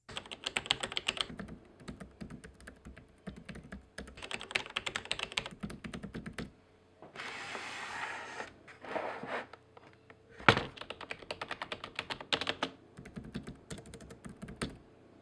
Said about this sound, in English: let's hear how it compares to a mechanical keyboard and to a more conventional non-mechanical keyboard